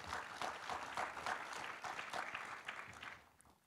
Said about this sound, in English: you have to save that applause till